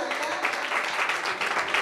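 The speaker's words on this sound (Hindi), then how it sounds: "एक बार जोरदार तालियां" Applause at a Jain religious ceremony staged as a play, a steady wash of many hands clapping throughout at a moderate level with no pauses.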